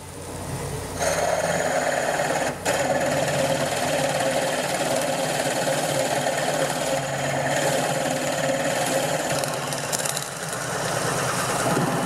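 A wood lathe turning near 500 RPM drives a Jacobs chuck drill bit through a block of wood, giving a steady, close whirring motor hum with a grinding edge and one brief dip.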